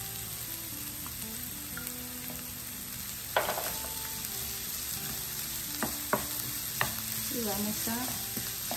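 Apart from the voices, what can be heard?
sliced onion sautéing in a pan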